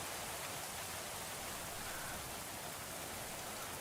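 Steady rain in the Going Medieval video game falls as an even, faint hiss of dense drops, unchanging and without talk.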